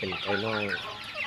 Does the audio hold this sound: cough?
no